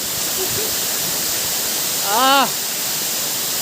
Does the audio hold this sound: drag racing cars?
no